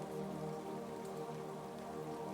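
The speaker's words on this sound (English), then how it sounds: "The rain persisted, though it had lessened, and the lake seemed to shimmer under its gentle caress." Rain falls on a lake with a soft, even hiss of light drops, faint and continuous, with a low steady hum beneath and no voices.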